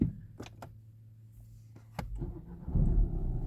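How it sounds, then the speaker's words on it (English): A car with a newly replaced turbo boost pipe starts up: a brief crank and catch, then a low engine idle rising and settling, heard close with a couple of clicks beforehand. "So now we're gonna start the car."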